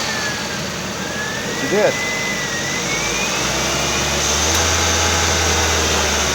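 A 2007 Ford Focus S engine runs steadily after starting, following a freshly replaced alternator, with a continuous low hum and a slight rise in level. A brief voice speaks over it.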